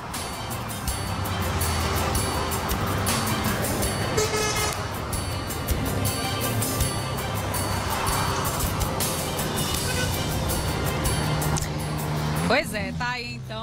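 Steady road traffic at a federal highway police checkpoint in Brazil, with continuous loud engine rumble, passing cars and buses and a car horn toot, with speech over it.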